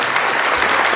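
A short, dense burst of hand clapping fills a second-grade lesson, steady and loud from start to finish with no voices over it.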